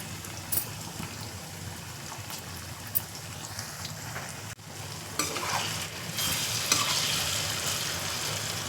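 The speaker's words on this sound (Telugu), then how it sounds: "ఆయిల్లో చక్కగా వేగుతుంది కదా దొండకాయ. ఒకసారి అటు ఇటు తిప్పుకుంటూ వేయించేసుకోవాలి." Pieces of ivy gourd (dondakaya) fry crisply in oil over medium heat, crackling and spitting up close while a spoon turns them with occasional scraping clacks; the sizzle swells louder toward the end.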